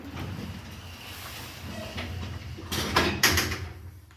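In a lift in Poole, the doors slide shut after a steady low machine hum, with a rolling rumble and then a sharp clunk near the end, close by and moderately loud.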